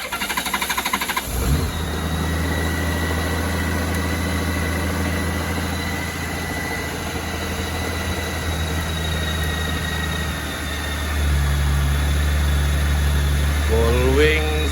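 A Honda Goldwing 1800cc motorcycle with knock sensor and fuel injection faults, before ECU replacement, starts up and settles into a steady, loud idle close by, the engine note rising slightly near the end.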